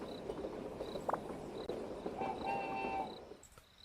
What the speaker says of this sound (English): Let's call the train one more time to make sure.